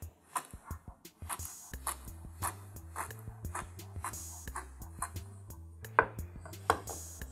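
A knife taps rapidly against a cutting board in quick, uneven chops of kaffir lime leaves, fairly soft and close, with no talking.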